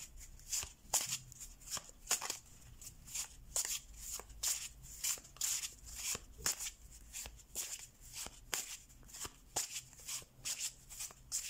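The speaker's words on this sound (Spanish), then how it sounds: "Me queda una última prueba que es barajar." Tarot cards being shuffled in repeated quick riffles and slaps, a steady crisp rhythm close to the microphone, fairly quiet.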